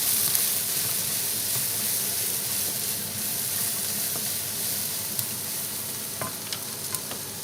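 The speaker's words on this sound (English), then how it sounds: "Okay, fry them till the onion flavor coming up." Onion fries in a pan for a cumin chicken dish, a continuous close sizzle and hiss with light stirring and a few small ticks and pops toward the end. Nobody talks.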